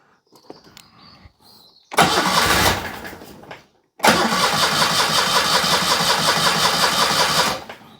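A Citroën 2CV engine cranks briefly, catches, stumbles, then fires up and runs at a steady, loud idle for several seconds, close to the microphone with faint sounds before the start.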